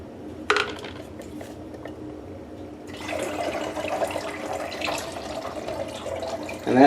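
Developer liquid pouring out of a leaky black-and-white film developing tank, a steady watery splashing that swells after a few seconds, with faint clinks near the start and a louder knock at the end.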